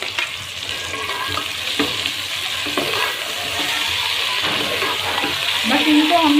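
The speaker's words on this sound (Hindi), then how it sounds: "बस इनको हमने हल्का हल्का फ्राई करना है" Sliced onions frying lightly in a pan for chicken manchurian, a continuous sizzle with intermittent stirring scrapes and clinks, close and fairly loud.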